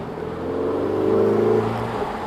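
A Ferrari California T engine swells in a steady, loud drone as the gearbox drops a gear on its own, heard from inside the moving car with no talk.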